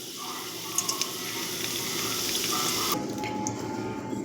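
Cheese balls deep-frying in hot oil give a steady, fairly loud sizzling hiss with a few brighter crackles, heard on their own.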